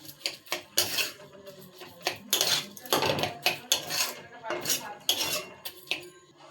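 Sugar being stirred into a pan along with cashews and raisins, heard as repeated metal scraping and clattering of a spoon against cookware in irregular bursts, close and fairly loud, no talk.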